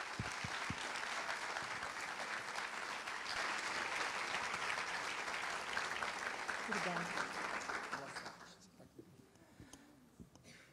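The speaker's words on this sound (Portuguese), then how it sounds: "Salva de palmas." A crowd at a lecture gives a full round of applause that stays dense for about eight seconds, then quickly dies away while a voice is heard faintly.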